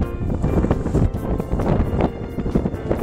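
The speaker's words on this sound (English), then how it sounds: "She can't hear me, it's so windy." Strong blizzard wind gusts during a Christmas snowstorm in Stone Harbor, NJ, a loud, turbulent roar battering the microphone in uneven surges throughout.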